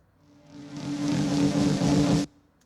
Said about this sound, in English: like this snare roll here.